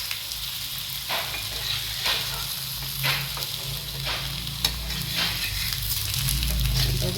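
Oil sizzles steadily on a dhapate flatbread cooking in a pan, a close, constant frying hiss marked by several soft scraping touches at regular intervals and a low hum beneath, with no voices.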